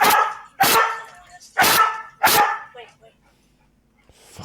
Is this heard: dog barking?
yes